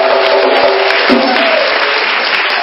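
Church congregation applauding to acclaim God, a loud, dense, continuous wash of clapping from many hands, steady from start to finish.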